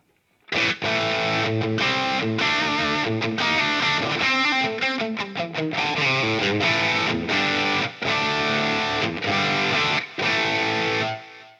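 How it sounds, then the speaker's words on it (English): Distorted electric guitar playing chords and riffs with echoing repeats and a spacious reverb tail, loud and continuous throughout. "the effects you hear are from the signal chain, of course, like delay and reverb"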